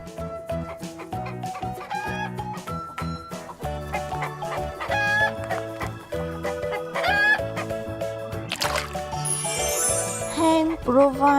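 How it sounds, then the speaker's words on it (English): A hen clucks in a steady run of short calls over upbeat background music, with a brief rooster-like crow near the end. "This is a hen."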